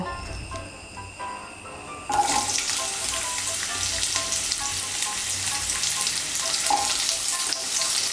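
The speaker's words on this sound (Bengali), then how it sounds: "ওই তেলের মধ্যে আমি করলাগুলো ভেজে নেব" Sliced bitter gourd drops into hot oil for a Bengali sukto, a quieter start giving way to a loud, steady sizzle and crackle that continues to the end, with no talking.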